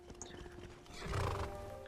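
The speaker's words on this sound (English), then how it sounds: "Can I steal a horse? Can I?" A horse in the video game Skyrim neighs and whinnies while its hooves clop, a short close burst swelling to a loud whinny in under two seconds with no talk over it.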